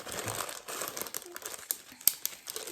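Cookie thins get pushed into a Ziploc plastic bag, which gives close, quiet crinkling and rustling with a few sharp crackles.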